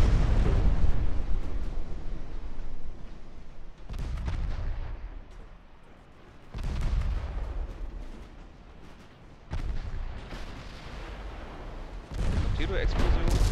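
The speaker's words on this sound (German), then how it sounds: "Explosion." Deep booming explosions roll through a naval battle in the warship game Ultimate Admiral Dreadnoughts, several heavy blasts each followed by a fading rumble, with spoken commentary running between them.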